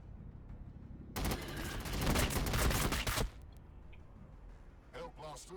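Game units in Warhammer 40k Battlesector open up with a dense, loud burst of rapid gunfire lasting about two seconds, then it cuts off to low background hum and a brief voice.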